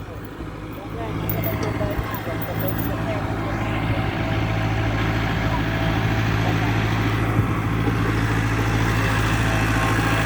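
A farm tractor arrives with a steady, low engine drone that builds in the first second and then holds, rumbling on at a moderate distance with voices underneath.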